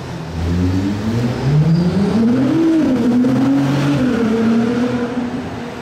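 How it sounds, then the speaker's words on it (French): Porsche sports car accelerating in Monaco, a loud close engine note rising in pitch with a smooth upward rev before settling, no talking over it. "la Porsche, je sens qu'elle va accélérer"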